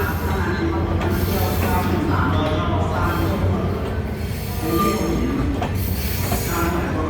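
The Royal Blossom luxury tourist train pulls into a station platform, wheels rumbling and squealing steadily on the rails, loud and close for several seconds with a continuous grinding screech.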